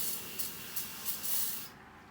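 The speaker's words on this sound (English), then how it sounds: "take some brake cleaner and clean these bolts up real nice" Brake cleaner sprays onto the bolts of a Massey 1155 tractor in close, loud hissing bursts, about four quick pulses and then a longer spray, over a steady background hum.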